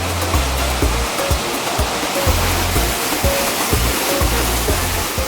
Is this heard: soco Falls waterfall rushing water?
yes